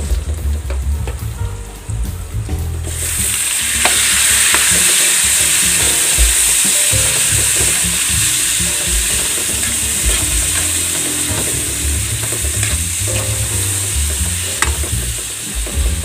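Tomatoes and bagoong shrimp paste sautéing for Ilocano pinakbet, a loud steady sizzle in a pan joined by scraping stirs and clicking utensil strokes, close and continuous with no talk.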